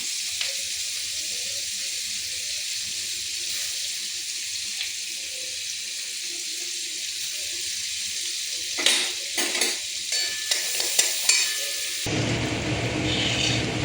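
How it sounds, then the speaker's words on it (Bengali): Chopped garlic, cinnamon and dried chilli fry in oil with a steady, moderate sizzle, joined later by a series of stirring scrapes and clinks before a louder, rushing hiss takes over at the end. "রসুনটা ভাজা ভাজা হয়ে গেছে।"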